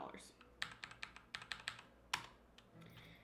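A computer keyboard being typed on to enter the MONEY cheat in The Sims 4 on PC: a short burst of crisp, close key clicks in quick irregular succession, with a louder final keystroke standing alone.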